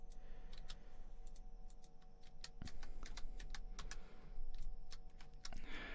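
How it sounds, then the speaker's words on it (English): Clicky computer keyboard being typed on, a fairly faint quick irregular run of sharp key clicks over a quiet background hum. "Nothing like hearing clicky click of my freaking keyboard."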